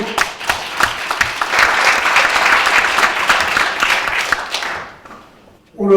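Audience applause at a Korean symposium on reducing everyday carbon emissions: dense, sustained clapping from a hall full of people. It fades out near the end, and a voice starts just as it dies away.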